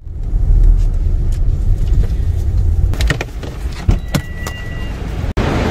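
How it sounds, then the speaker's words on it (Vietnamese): Car traffic crawling through a morning jam in Bangkok, with a steady low rumble of engines and a few sharp clicks and knocks nearby. No one speaks. "Bangkok bị kẹt xe tới như vậy nè."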